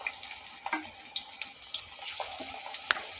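Fish pieces frying in hot oil, a steady fine sizzle with scattered pops and crackles, close and moderately loud, with no talk over it.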